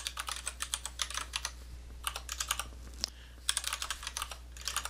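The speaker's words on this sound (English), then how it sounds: "So I'm just going to type" Rapid bursts of clicking keystrokes on a computer keyboard, close and crisp, in uneven runs with short pauses between.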